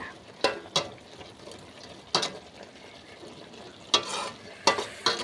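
A tempering of dal, mustard seeds, chilli and curry leaves fries in oil for semiya upma, a low steady sizzle punctuated by several sharp stirring scrapes against the pan, close and without talk.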